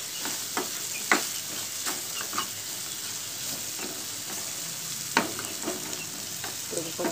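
Sliced bitter gourd (kakarakaya) frying in a pan, giving a soft steady sizzle with occasional scraping clicks as the pieces are turned, moderately quiet and with no voices.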